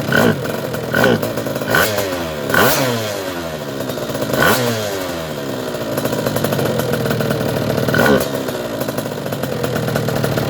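A scooter engine fitted with a Spitro 86 aluminium top end runs and revs, with a buzzing two-stroke rasp rising and falling in pitch under mechanical clatter, loud and close, with a voice speaking briefly.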